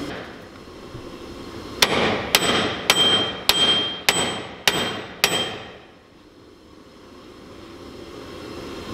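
Seven sharp metallic hammer blows ring out at an even pace, each with a short ringing tail, as a rusted part is hit on an off-road electric monster truck build; then quiet.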